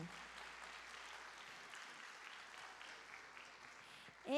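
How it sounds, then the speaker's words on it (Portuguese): A church audience claps for a children's ministry group in a steady, fairly faint patter of applause that carries on evenly for a few seconds. "Palmas para eles."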